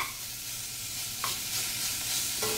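Meat for stew sears in a hot pan with a loud, steady sizzle, close up, broken by a couple of brief spatula scrapes as the pieces are moved.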